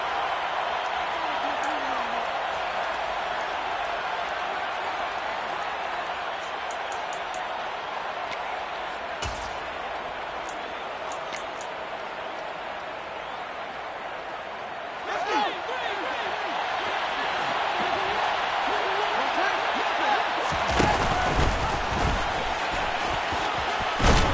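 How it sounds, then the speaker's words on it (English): A football stadium crowd roars with a sustained broad wash of shouting during a replay, loud and distant-sounding, with a few thumps and a surge of noise near the end, under a commentator's voice. "Plenty of shouts from this crowd as they watch the replay."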